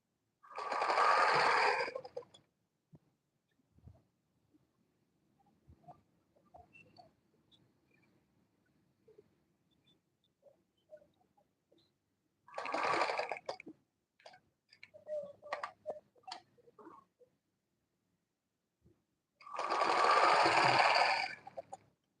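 Sewing machine stitching the neckline of an Ankara gown, three loud bursts of running stitches separated by quiet stretches of small handling clicks and rustles.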